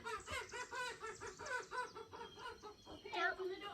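Chickens clucking at a homestead while being moved into a geese paddock, a busy run of close, rapid clucks and squawks with one rising call near the end.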